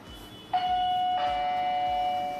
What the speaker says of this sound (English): And this is doorbell.